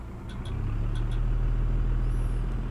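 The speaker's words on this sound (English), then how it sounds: "put it in drive, give it a little gas." A truck engine in the BeamNG driving game, put in drive with a little gas against the parking brake, gives a steady low idle rumble that swells slightly, with a few brief air-brake hisses and a faint rising whine near the end.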